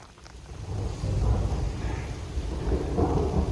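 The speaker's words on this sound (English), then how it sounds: "I'm sitting under here and it's raining hard" Heavy rain pours steadily on a mountain trail while low rumbling thunder rolls beneath it, heard from under a small rock overhang, swelling louder partway through and continuing to the end.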